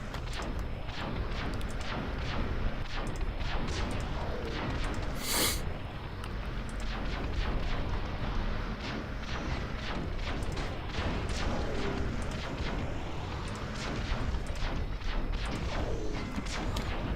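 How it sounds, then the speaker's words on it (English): A busy video game battle with cannon and machine gun fire mixed with beam weapons, running at triple speed: dense rapid impacts, cracks and booms in quick irregular bursts, including one sharp loud blast. "Just a mix of beam, cannon, and machine guns."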